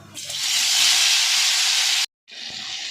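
Boiled gunda dropped into hot oil, giving a loud, steady sizzling hiss that cuts off abruptly for a moment and then resumes.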